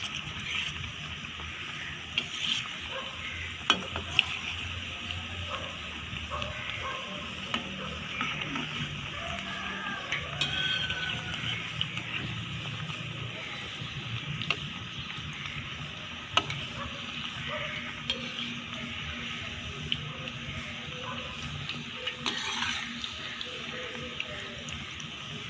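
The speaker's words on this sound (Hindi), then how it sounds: "इसको डीप फ्राई करते जाना है, जैसे कलर चेंज होगा इसको निकाल लेंगे।" Onion fritters deep fry in hot oil, giving a steady, hissing sizzle with faint bubbling and occasional stirring clicks, close by and continuous, with no talking.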